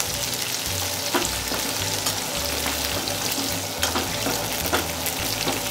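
Capsicum and other vegetables stir-fry over a high flame for a Chinese-style dish, giving a loud continuous sizzle with occasional stirring clatter, up close and with no talking.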